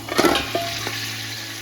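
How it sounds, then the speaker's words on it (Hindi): Goat trotters frying in cooking oil with ginger garlic paste give a soft, brief sizzle with a stirring scrape or two near the start, fairly quiet and close. "थोड़ा सा अदरक लहसुन के साथ इसको भून लेंगे।"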